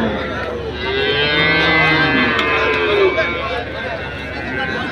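Native cattle moo loudly and close by at a Saturday cattle market in Anthiyur, several drawn-out lowing calls overlapping against a busy background.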